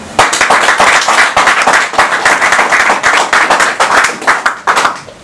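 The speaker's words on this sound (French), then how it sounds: "nous devons encore l'applaudir" Dense, loud applause from an audience at a political party's headquarters during a visit by national deputies, steady rapid clapping from many hands with no talk over it.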